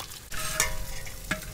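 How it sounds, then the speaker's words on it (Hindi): Chopped onions fry and get stirred in a pot for desi handi chicken, a steady close sizzle with a couple of brief scraping clatters and no talk. "पहले हम प्याज अच्छे से भून लेते हैं"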